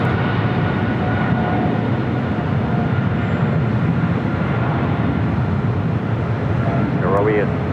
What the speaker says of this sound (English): Got that 777-300ER now rolling down.